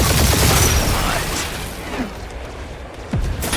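Gunfire in the action game Marvel's Guardians of the Galaxy, a loud dense burst of rapid shots and booms that thins out into scattered blasts, with a voice briefly speaking over it.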